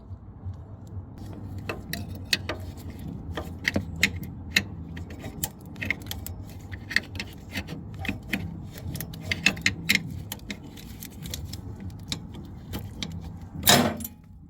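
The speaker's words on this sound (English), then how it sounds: "just undo these two bolts, and the rock slider would be off" Two bolts come off a car rock slider, heard as a close series of rapid metallic ratchet clicks and ticks in irregular bursts, ending with a louder clunk near the end.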